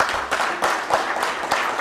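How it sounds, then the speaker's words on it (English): An audience applauds a panel at a book launch event, a short burst of dense clapping from a seated crowd. "I would like us now to give a round of applause to our panel."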